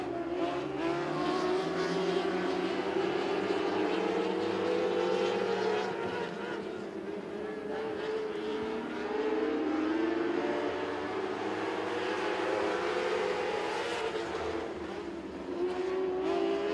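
Dwarf cars racing around Crossville Speedway, a dense pack of engines roaring continuously with rising and falling pitch as they pass, steady and fairly loud over the whole stretch, faint voices in the mix.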